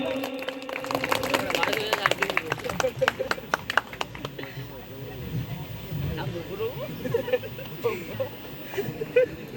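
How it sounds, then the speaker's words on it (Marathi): An audience at a village Satyanarayan puja and cultural programme claps in scattered bursts for a prize presentation, then the sound fades into crowd chatter and people talking nearby. "सर्वांनी टाळ्या वाजवायच्या आहेत."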